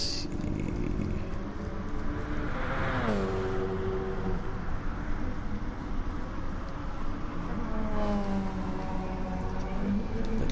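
Race cars in an IMSA GT racing video game roll through a formation lap, their engines droning steadily and rising in pitch twice as they accelerate under a constant background hum, with no talking.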